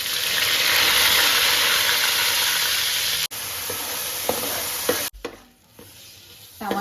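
Masala paste, onion paste, cumin and garlic fry loudly in a generous pool of oil for fish curry, a dense steady sizzle that suddenly drops and thins toward the end, with brief clinks of stirring.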